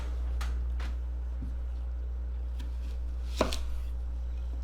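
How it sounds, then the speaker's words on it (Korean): Onion being cut into thick slices for kimchi stew, heard as a few sparse, quiet knife taps against a cutting board over a steady low hum, with one sharper chop near the end. "양파는 살짝 도톰하게 썰어 주시는 게 좋아요"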